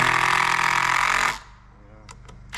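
A power tool whirs loudly as it drives screws into timber on a porch frame, then cuts off abruptly, leaving a quieter background with a few faint clicks.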